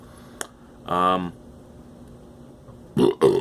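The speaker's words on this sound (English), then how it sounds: "I think that's my third burp since I started this review." One drawn-out, resonant burp from someone drinking a Belgian dubbel ale, with a short click before it and a couple of brief vocal noises after a pause.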